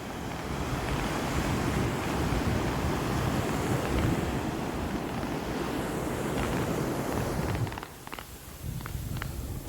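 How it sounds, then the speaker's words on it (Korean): Ocean waves breaking on a winter beach, a loud continuous wash of surf with wind buffeting the microphone, dropping briefly near the end before rising again. "파도 소리도 있고."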